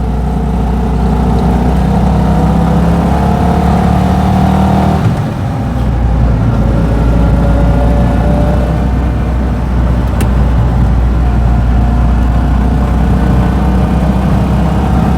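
A 1959 BMW Isetta 300 microcar's small single-cylinder engine revs steadily, briefly drops off as it shifts into second gear, then pulls again with a buzzy, constant drone close up inside the tiny cabin.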